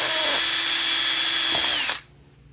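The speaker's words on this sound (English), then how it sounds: "I'm gonna drill a hole straight out the other side." A power drill bores a 9/64 hole straight through a DIY rod holder, whining loudly at a steady high pitch before it suddenly cuts off and winds down.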